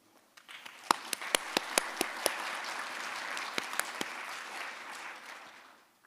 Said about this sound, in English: I am inviting to join to my thanks with applause